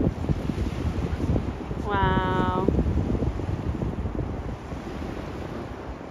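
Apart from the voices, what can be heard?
big sea waves coming in on the shore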